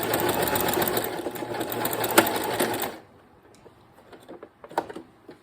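A sewing machine runs steadily for about three seconds while stitching a quarter-inch seam, then stops, leaving faint clicks and handling sounds of fabric being moved.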